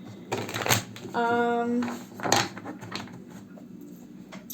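A quick riffle of tarot cards being shuffled, close and crisp, with a brief whirring flutter in the middle and soft handling noises around it.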